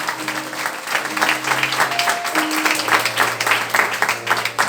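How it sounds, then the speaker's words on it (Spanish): A church congregation claps along with music, with rhythmic, moderately loud applause over sustained instrumental tones during a service. "dale un aplauso a Él"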